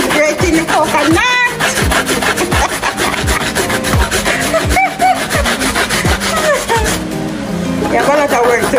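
Coconut flesh scraped on a hand grater while making Jamaican sweet potato pudding, a steady loud rhythm of rasping strokes about twice a second, close up.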